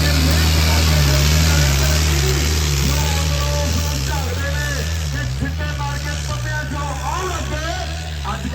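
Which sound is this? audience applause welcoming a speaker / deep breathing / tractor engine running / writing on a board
tractor engine running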